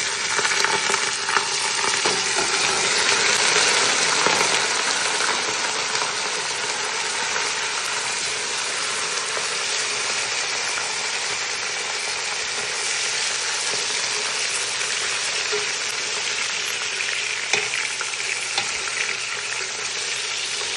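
Chicken pieces with browned onion frying in a pan, a loud, constant crackling sizzle that runs unbroken throughout with no voices.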